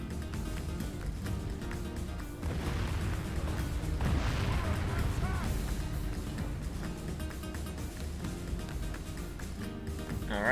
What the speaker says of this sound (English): Let's begin with a trebuchet duel.